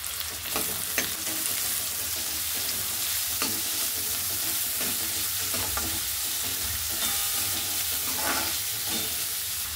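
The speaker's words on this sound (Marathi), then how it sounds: "फक्त थोडासा मऊ पडला पाहिजे कांदा, एवढाच आपल्याला याच्यामध्ये परतून घ्यायचं आहे" Onion sautéing in a pan with a little salt for a coriander bhaji, a steady frying sizzle throughout with scattered scraping taps of a spoon stirring, no talking.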